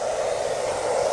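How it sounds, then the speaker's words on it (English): A hair dryer blows steadily on wet fine aggregate in a lab, a continuous, close, even whoosh with no pauses or talk. "So use a hair dryer"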